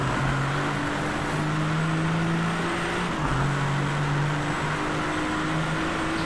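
A race car engine in the Driveclub racing game drones steadily at high speed, a continuous loud hum with a slight pitch shift midway and no pauses.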